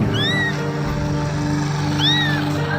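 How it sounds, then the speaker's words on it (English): A small, blind kitten gives two high, thin meows, one near the start and one toward the end. Both are close and clear over a steady background hum. "People heard a small blinded kitten crying and decided to help."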